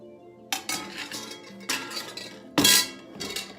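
Pieces of marinated, frozen oxtail are dropped into a cooking pot for stew, producing several separate clanks and clinks of metal and hard contact spaced apart and fairly close.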